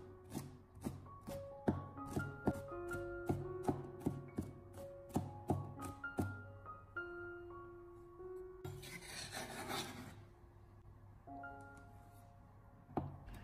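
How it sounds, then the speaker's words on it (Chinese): A kitchen knife smashes and then chops garlic cloves on a cutting board, producing a run of sharp, evenly spaced knocks followed by a brief rustling scrape, close and fairly quiet with no talking. "先用刀给它拍一下， 然后再给它改刀切成蒜末"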